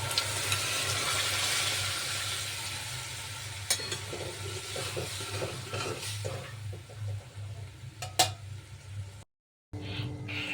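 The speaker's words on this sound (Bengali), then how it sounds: "এখন সিদ্ধ করা ডালটা আমি এর মধ্যে দিয়ে দেবো।" Boiled mung dal stirred into sizzling spices and oil in a pan, a steady low sizzle with scraping stirs and a few sharp clinks of the spoon against the pot.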